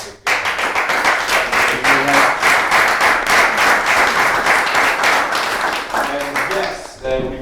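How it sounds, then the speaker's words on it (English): A panel discussion audience gives a dense, sustained round of applause that fades toward the end, with a voice beginning to speak as it dies down. "But a round of applause because it was fantastic."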